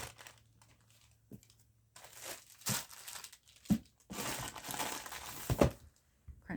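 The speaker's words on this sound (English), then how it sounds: "Crunchy paper bag on the shelf there" A crinkly paper bag is handled on a shelf in a craft room. Irregular bursts of crackling and rustling come up close, broken by short pauses and a few sharper crunches.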